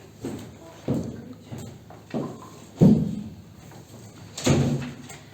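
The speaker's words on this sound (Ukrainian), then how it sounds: "наверное, может, дверь закрыть?" A door is pushed shut in a meeting room before a council committee session, giving a series of sharp wooden knocks and thuds, with one heavier bump near the end. Faint background voices can be heard.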